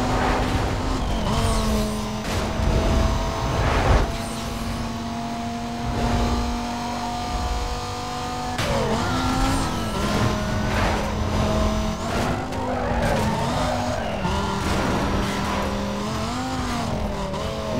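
Video-game race cars roar through Need for Speed Most Wanted, a Lamborghini overtaking, engines steadily loud with rising and falling revs, gear shifts and occasional tire squeal, no talking.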